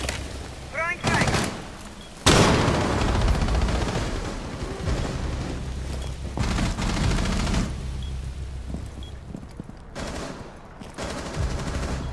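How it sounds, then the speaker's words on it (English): Gunfire and a frag grenade explosion in the video game Rainbow Six Siege, with bursts of rapid shots and loud booming blasts, close and dense, broken by brief quieter gaps. "Throwing frag."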